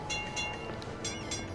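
A tram in the snowy city-builder Cities: Skylines rolls along with a steady rumbling rail hum and faint rhythmic clatter, close and unbroken, with no talk over it.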